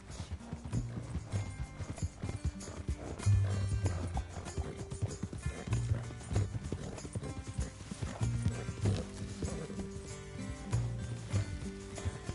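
A horse in the video game Red Dead Redemption 2 clip-clops along at night with steady rhythmic hoofbeats, and neighs and whinnies break in now and then at moderate volume.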